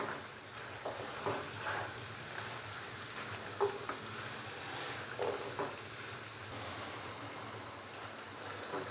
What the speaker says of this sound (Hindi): 3 से 4 मिनट हम टिंडों को मसाले के साथ अच्छे से भून लेंगे